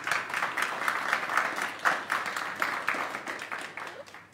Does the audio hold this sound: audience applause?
yes